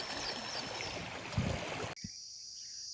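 The Penna river flows near the Penakacherla reservoir with a steady broadband rush of moving water, heard close and continuous before cutting off abruptly partway through, leaving faint insect-like background.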